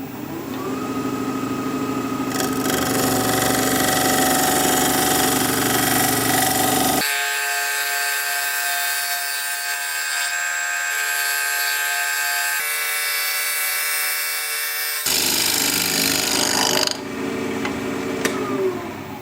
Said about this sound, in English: I'm going to use a 1/2-inch standard grind bowl gouge and work on the sides here